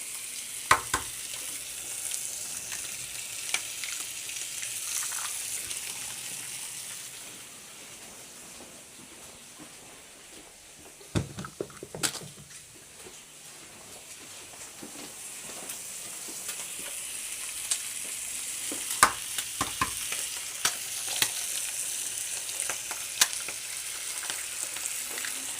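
Eggs fry in a hot pan beside gammon, a loud, steady close sizzle and hiss that swells after they hit the fat, with occasional spatula scrapes and pops and no talking.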